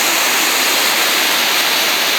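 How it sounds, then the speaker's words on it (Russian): Floodwater pours over a small dam on a swollen little river in the town of Ukhta, Komi, during a summer flood: a steady, loud, unbroken rush of water with no voices. "Это у нас плотинка в городе. Бибьюшка, маленькая речечка, практически ручеек, разлила бешено."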